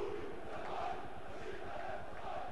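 Football supporters at a Serbia–Albania stadium match chant together in a loud, rhythmic crowd roar, a massed wall of voices rising and falling continuously from a distance.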